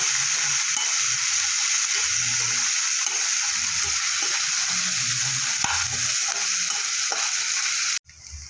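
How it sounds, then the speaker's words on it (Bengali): Chopped onion with a little salt frying loudly in a pan, a dense steady sizzle with soft stirring scrapes throughout, cutting off abruptly near the end. "এবার দেবো কুচনো পেঁয়াজ, লবণ সামান্য, পেঁয়াজটা ভেজে নেব।"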